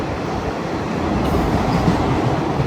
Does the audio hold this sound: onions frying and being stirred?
no